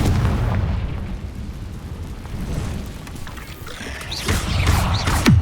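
Confringo fire spell blast in the Hogwarts Legacy video game, a loud, deep rumbling boom that rolls on continuously, with whooshing magical sweeps and a final heavy burst near the end.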